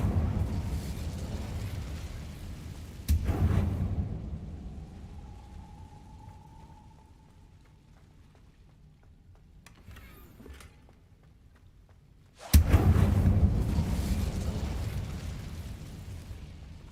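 Incendio fire spell cast in Hogwarts Legacy, heard as two sudden loud fiery bursts that each fade into a roaring rumble, with a quieter stretch between them.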